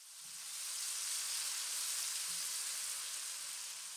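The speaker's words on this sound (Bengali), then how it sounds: "পেঁয়াজগুলিকে বাদামি করে ভেজে নিচ্ছি।" Onion paste frying in a pan for Bengali ghugni, a steady close sizzle and hiss that swells and holds without interruption.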